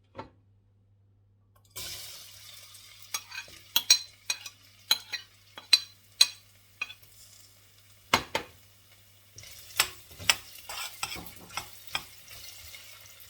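Carrots and potatoes sizzle and stir in a pan, with scraping utensil clatters and clicks popping out over a steady low frying hiss.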